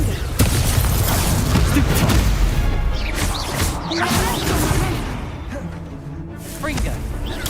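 Crashing, booming spell blasts of a Confringo fire spell in the wizarding video game Hogwarts Legacy, loud and repeated with whooshes, under a voice calling out.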